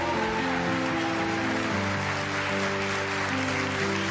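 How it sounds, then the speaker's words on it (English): A church congregation applauds during a service, a steady wash of clapping that fills four seconds over sustained organ or keyboard chords, fairly distant and even in level. "you can clap if you want to"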